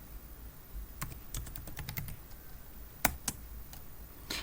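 Typing a passphrase on a computer keyboard, with scattered individual keystrokes as clicks in small bursts and a couple of louder key presses near the end, close and alone in a quiet room.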